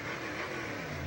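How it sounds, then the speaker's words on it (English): A race car engine passes during the North Dakota State Fair parade, a steady mid-pitched roar heard at moderate distance over outdoor crowd ambience, with no talk. "that would be a race car right there. Sounds good"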